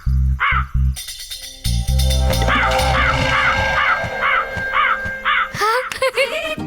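Crows in a Tamil television comedy set in the time of Tenali Raman, cawing repeatedly in a steady series of harsh, loud calls over background music and other effects.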